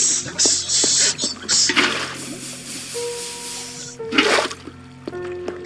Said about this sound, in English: This water sound it's like ASMR, dude.